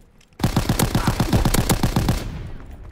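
AVS-36 rifle in Call of Duty WWII fires a loud, rapid automatic burst of about fifteen evenly spaced shots, starting abruptly and lasting around two seconds before fading with echo.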